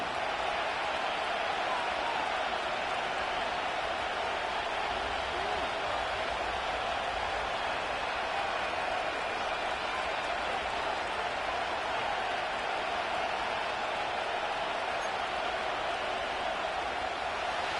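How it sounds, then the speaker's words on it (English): Stadium crowd at a Detroit NFL football game roaring before a third down late in the game, a dense, constant wash of cheering and noise with no letup. "This crowd into it now as we get to third down."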